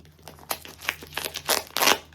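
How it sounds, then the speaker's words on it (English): Crinkly wrapping paper around a small advent calendar gift rustles and crackles in uneven bursts, close and fairly quiet, growing busier toward the end. "Ready for the rustly paper?"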